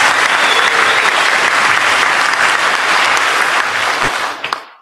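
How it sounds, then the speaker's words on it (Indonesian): Loud, dense audience applause for a guest at an Indonesian national football team gathering, a steady wash of many hands clapping close by that fades out at the end, with no talk over it. "Tepuk tangan untuk Pak Beni."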